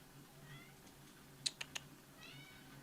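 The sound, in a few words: cat meowing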